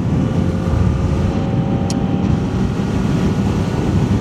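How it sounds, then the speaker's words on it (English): Kawasaki Ninja ZX-4RR four-cylinder motorcycle engine while riding, a steady loud drone with rushing wind noise throughout, no voices. "This is my first ride review of the Kawasaki ZX4RR, the little four-banger that could."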